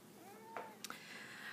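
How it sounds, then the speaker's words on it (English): A pet cat meows in a room, its drawn-out cries rising and falling alone and fairly close, followed by a couple of short sharp knocks. "Oh, here comes my kitty."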